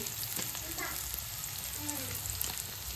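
Asafoetida hitting hot frying oil in a home kitchen while methi rassa bhaji is made, a continuous bright sizzle with faint stirring clinks and a voice briefly speaking over it.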